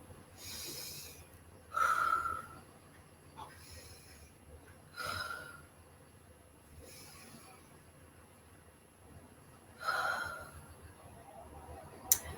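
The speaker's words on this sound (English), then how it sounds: "let's together take 3 inhales and 3 exhales." Slow, deep breaths in and out repeat at an unhurried pace during a guided relaxation, each airy inhale and exhale audible and close with quiet pauses between them.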